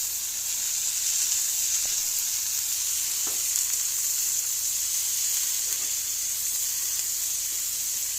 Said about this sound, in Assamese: এতিয়া এইখিনি ধুনীয়াকৈ অকণমান লৰাই দিব লাগিব।